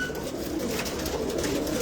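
Pigeons coo softly and repeatedly in a loft, low rounded calls overlapping at close range against a faint background of hiss and rustle.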